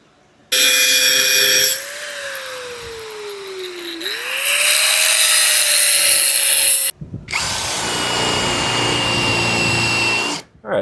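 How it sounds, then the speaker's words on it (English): A power drill whines loudly and steadily up close, drilling a hole in a 1941 Mercury car, its pitch sagging under load and recovering, then a second harsher burst after a brief stop. "drill a hole."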